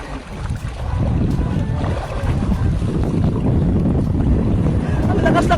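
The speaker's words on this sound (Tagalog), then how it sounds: "Ang lakas ng agos" Rushing water from a strong current flows loudly and continuously, mixed with wind buffeting the microphone, and a person's voice is faintly heard near the end.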